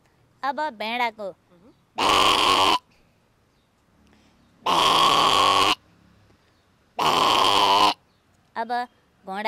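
A woman imitates a sheep, giving three long, loud bleating cries at a steady interval, with short vocal bursts between them.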